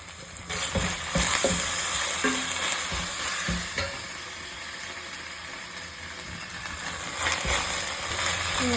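Ginger garlic paste sizzles with onion and chili over a low flame for pepper chicken, a loud continuous frying hiss close by, with scraping and clinking from stirring near the start, and no voices.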